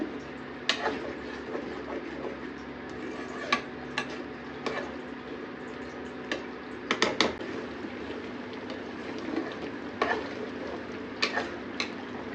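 Village-style chepala pulusu, a fish curry, simmers in a pot with a steady low bubbling hiss, broken by occasional sharp ticks and clinks close by.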